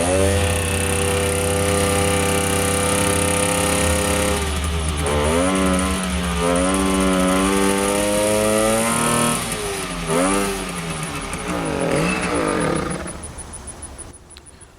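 Garelli VIP moped engine running right after its first start, a loud close two-stroke buzz that idles and then revs up and down in repeated swells before easing off.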